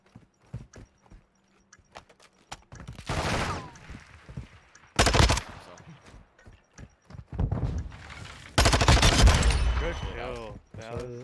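Gunfire in a Modern Warfare 2 Search and Destroy match: sharp rapid footsteps, then several loud bursts of automatic fire and single shots close up, with players chatting over the action.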